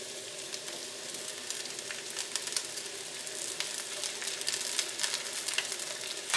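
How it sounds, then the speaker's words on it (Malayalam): Beef and vegetables stir-fried over a high flame, a steady close sizzle with frequent scraping and clicking stir strokes running throughout, no voices. "നമുക്ക് 2-3 മിനിറ്റ് ഇത് നന്നായിട്ടൊന്ന് മിക്സ് ചെയ്യാം. തീ നന്നായിട്ട് കൂട്ടി വയ്ക്കാം"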